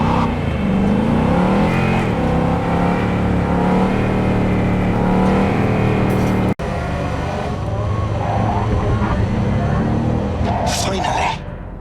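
Car engine in Cyberpunk 2077 holding a steady, loud drone with revving swells as the vehicle drives, a brief dropout midway, with people talking over it throughout.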